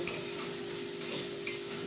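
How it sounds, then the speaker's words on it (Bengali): Potatoes frying in a pan, a quiet sizzle broken by three brief scraping stirs of a utensil against the pan, close and without talk. "আলুটা প্রায় ভাজা হয়ে এসছে"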